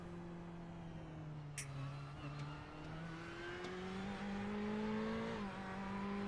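Ferrari 488 GTB racing car heard onboard in a Ferrari Challenge race at Bathurst in a racing game, a steady droning engine note that rises and shifts through gears, loud and continuous with faint tire noise.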